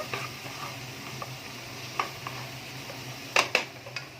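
Egg biryani masala with garam masala stir-fries in a pan, a soft steady sizzle punctuated by scattered spoon scrapes and a couple of sharper clinks of utensil on metal near the end.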